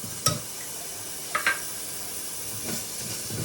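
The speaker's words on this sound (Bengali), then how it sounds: "এই যে খিচুড়ির মশলাটা একটু কষে গেছে" Khichuri spice masala frying in a pot, a steady sizzle and hiss with a few brief scraping stirs of a spoon against the pot, close and moderately quiet, no voices.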